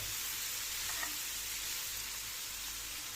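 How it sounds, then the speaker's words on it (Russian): Sliced overgrown cucumbers fry in a few spoonfuls of oil in a pan, giving a steady, close hiss and crackle that runs without a break from start to finish, with no voices. "И обжариваем до такого состояния, когда огурчики немножко зарумянятся."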